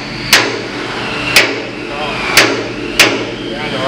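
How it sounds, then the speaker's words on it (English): A hammer strikes a steel bucket pin on a loader bucket, four sharp metallic whacks spaced about a second apart, loud and close over a low background rumble of machinery. "You want to try whacking on that side?"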